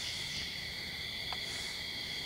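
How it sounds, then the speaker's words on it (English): Night insects chirr in a steady, faint drone beside a lake at night, heard from a truck tent campsite, with no other sounds standing out. "You can still hear all the bugs and the frogs"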